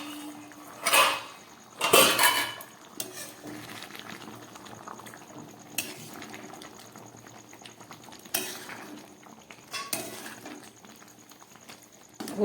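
A lid comes off a pot of ghugni cooking on the stove, with a couple of sharp metallic clanks early on, then a soft, steady simmering bubble and occasional light utensil knocks.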